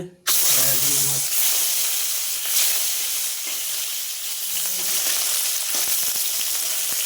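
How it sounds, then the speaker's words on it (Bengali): Fish pieces sizzle and crackle loudly in hot oil in a kadai, a continuous frying hiss with occasional pops and a few faint clinks. "মাছলিটা ফ্রাই করা হয়ে গেছে"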